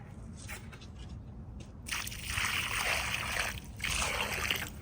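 Water is poured onto loose soil around a freshly transplanted apple tree outdoors, making a soft, steady trickle and splash that swells in two bursts over low background noise, with no talking.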